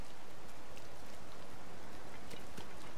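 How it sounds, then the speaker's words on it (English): Steady, dense rainfall in the Zelda: Tears of the Kingdom video game, an even hiss of drops that continues without a break and no voices over it. "But it's raining!"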